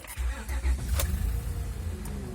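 An older car under restoration cranks and catches, its engine settling into a low, rumbling idle close by with a slight rev early on, running steadily without speech.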